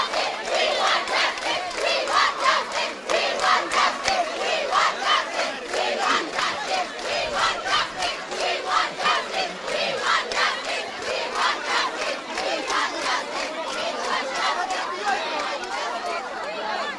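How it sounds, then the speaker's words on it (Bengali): Student protesters, teachers among them, chant slogans together at a non-cooperation demonstration in Uttara, Dhaka, a loud and dense crowd whose rhythmic shouted chants pulse steadily and continuously throughout. "তারা নানা ধরনের স্লোগান দিচ্ছেন"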